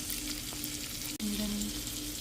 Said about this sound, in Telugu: కొంచెం ఆలివ్ ఆయిల్ అండ్ బటర్, కొంచెం గార్లిక్ కుక్ అయ్యేటప్పుడే సాల్మన్ పెట్టేస్తే బెటర్, బికాజ్ ఇది ఫాస్ట్గా కుక్ అయిపోద్ది.